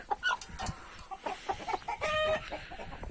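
Gold Brahma hens cluck inside a coop with short, irregular calls from several birds close at hand, ending in a longer drawn-out cackle.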